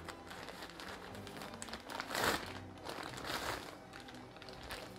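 Plastic bag crinkling while a SteelSeries Arctis Nova 1 headset is unboxed, quiet close-up rustles and crackles rising and falling over several seconds with a brief louder crunch.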